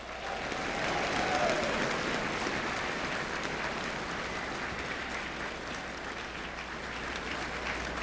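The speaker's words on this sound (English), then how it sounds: "join together in a warm round of applause for the members of the Marine Corps" Warm, sustained applause from a large ballroom crowd at the Rex Ball in New Orleans, honoring the Marine Corps Band, a steady wash of many hands heard at a moderate distance for the whole stretch, with a brief high whistle early on.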